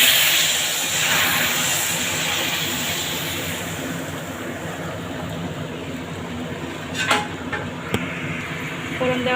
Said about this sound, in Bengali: এখন ফোড়ন দেবো, একটু জিরেটা পুরুক, লঙ্কাটাও পুরুক